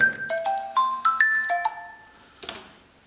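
A phone rings in a workshop during LED stair lighting work, playing a bright chiming ringtone of several quick descending and rising tones, then a short final burst near the end, loud and alone.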